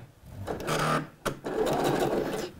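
A sewing machine stitches the pinned sleeves of a dress 1 cm from the edge, running in two close, steady bursts: a short reverse stretch, a brief pause, then a longer forward run.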